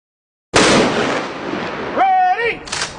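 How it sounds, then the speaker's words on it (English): A single loud gunshot cracks close by, and its rumbling blast decays for a couple of seconds under a brief shouted voice. "So I fired one shot."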